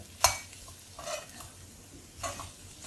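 A spoon scrapes and stirs a spring onion and potato stir fry in a pan, with a few separate clinking strokes spread over a few seconds above a faint sizzle.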